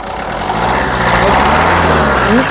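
A 2015 Maruti Suzuki S-Cross Alpha 1.6 engine runs close by, a low steady hum that climbs briefly in pitch as it is revved near the end.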